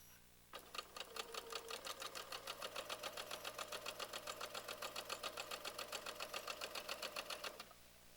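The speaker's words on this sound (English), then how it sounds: "I'm going to go ahead and sew this" A sewing machine stitches a quilt block in a fast, steady run of even rhythmic pulses, close and fairly loud, starting after a brief pause and stopping cleanly near the end, with no talk over it.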